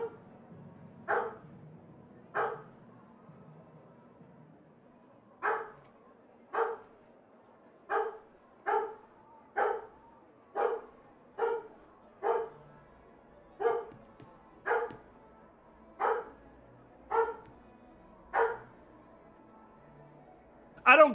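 A dog barks indoors, a dozen or so single woofs at fairly regular intervals of about a second, moderately near and alone with no talk over it.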